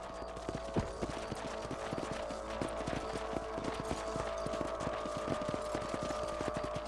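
Horse hooves clip-clopping in the Red Dead Redemption video game, a steady rapid trot of sharp, close hoof strikes over a low ambient hum, with no talk.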